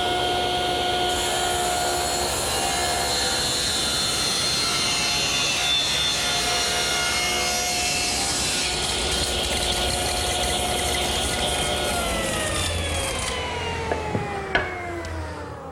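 A woodworking machine, likely a table saw, makes a steady loud whine as a tapered table leg is cut with a jig, holding constant before the pitch drops and it winds down with a few small knocks near the end.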